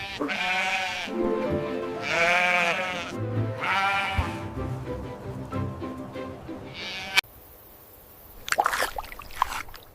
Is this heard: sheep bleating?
yes